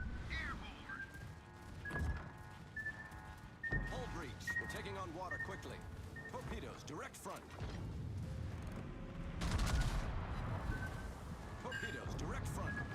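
Naval gunfire during a video game sea battle with torpedoes and a submarine nearby, a busy mix of booms and mechanical clanks, some rising tonal effects, and a heavier blast burst near the end, heard under continuous talking.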